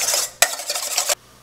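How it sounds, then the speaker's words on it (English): One egg beaten in a medium-sized bowl, with a brief pause between two bursts of quick clattering whisk strokes, close and alone. "Beat it up so it's easier to stir."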